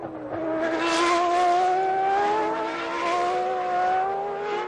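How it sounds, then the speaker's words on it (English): Formula One race cars, a Tyrrell among them, scream past with high-pitched engines holding a sustained, loud whine that rises and dips slightly as they race on track. "Ukio Katayama in the Tyrrell ahead of Michael now as Senna tries to close the gap"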